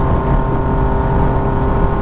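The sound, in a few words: Yamaha MT-09 motorcycle accelerating with GYTR quick shifter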